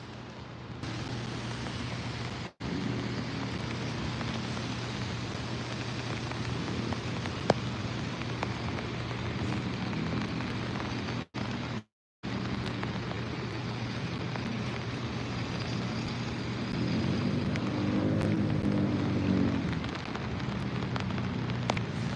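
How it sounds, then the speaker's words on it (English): Heavy convective rain pours steadily in New York City, a dense, continuous hiss with brief gaps and a low droning hum underneath that grows louder near the end. "right now we're getting some heavy rain"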